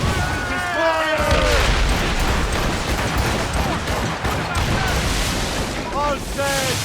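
Ship cannons fire in Assassin's Creed Rogue as a loud barrage of booms and crackling blasts over a few seconds. Shouting voices and in-game sounds run over the firing.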